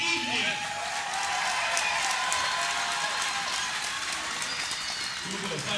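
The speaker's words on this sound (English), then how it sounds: "Let's start with a round of applause." Audience at a Combat 55 fight event applauding and cheering, a steady crowd roar with scattered claps filling the room, with an announcer's voice heard at the start and end.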